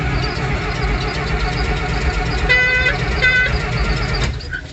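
Old vehicle engine running under throttle in the cold on a chores-time morning, a steady close rumbling idle that roughens as it is revved, with a couple of short tonal toots midway, and no voices.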